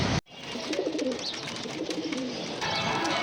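Pigeons coo continuously at a busy pigeon and bird market in Mugda, Dhaka, their low rolling calls close and layered over crowd bustle, with a brief gap near the start.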